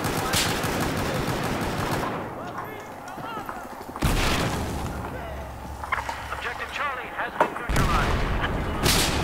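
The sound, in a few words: shotgun fire in the video game Battlefield 4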